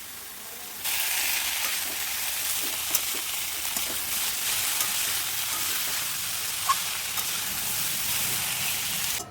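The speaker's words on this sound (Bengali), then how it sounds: "হলুদ দিয়ে ভালো করে ভেজে নামিয়ে নেব" Steady, loud sizzling of a spice paste with salt and turmeric frying in hot oil, with occasional stirring scrapes over a constant hiss.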